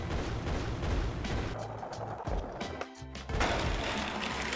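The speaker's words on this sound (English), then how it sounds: "Hey, want to see some explosions?" Explosions in the skateboarding video game Session go off in a rapid series of loud bursts and booms, with a short lull before another blast.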